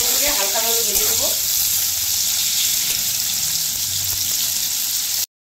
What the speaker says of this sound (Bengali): এখন করলাটাকে আমি লাল করে ভেজে নেব।